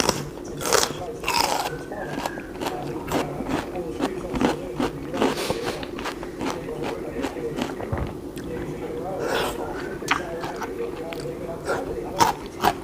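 Someone eats crisp celery stems with a fresh shrimp som tam, and close, steady crunching bites and chewing repeat throughout, with occasional voices in the background.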